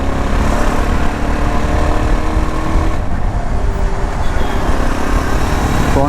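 A 2025 Yezdi Adventure motorcycle ridden over potholes, a loud continuous engine drone with wind rush and road rumble, the exhaust note shifting slightly midway, no voices.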